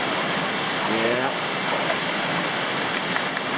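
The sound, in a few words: waterfall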